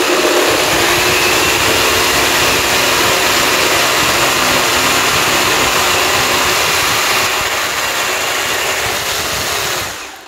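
Parkside PSSPA 20-Li A1 cordless reciprocating saw fitted with the supplied metal-cutting blade, running steadily with a dense buzzing whine at close range for about ten seconds, then cutting off abruptly at the end, with no talk.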